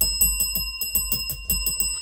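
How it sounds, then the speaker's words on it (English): A bell rings as a sound effect in a fast, even series of about nine strikes with a steady ringing tone underneath. It is close and clear, with no other sound. "Ding, ding, ding, ding, ding."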